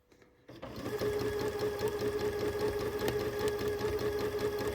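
A sewing machine stitching slowly during free-motion quilting starts after a brief silence, then holds a steady, close mechanical hum with a fine rapid needle rhythm.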